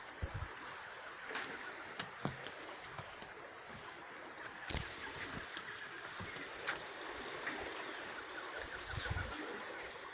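Flowing water of a flooded, very full river near a gold-mining site, a steady broadband rush with faint knocks and splashes, moderately distant and continuous, with no voices.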